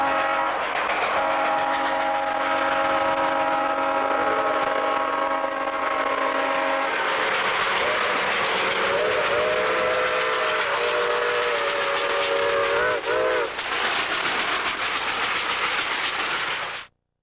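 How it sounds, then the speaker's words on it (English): A steam train with coupled diesel F units climbing Jack's Mountain rumbles steadily with loud engine drone and a long sustained horn blast, continuing under heavy mechanical noise as it labors along. "The F units have been coupled on to help get the train over Jack's Mountain."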